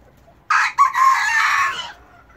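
A single close, loud rooster crow from a smallholding flock rings out for about a second and a half, a raspy rising-then-falling call, with faint quiet background before and after.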